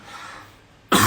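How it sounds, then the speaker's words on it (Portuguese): A single loud cough bursts out near the end from someone recovering from a sore throat, after a stretch of quiet indoor room tone. "desculpa aí se eu começar a tossir em alguns momentos"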